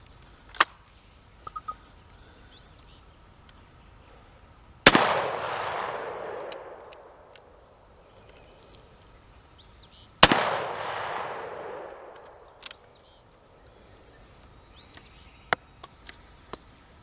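Two Remington shotgun shells fired outdoors, each a sharp, loud blast with a long rolling echo, spaced several seconds apart, with faint bird chirps and small clicks between.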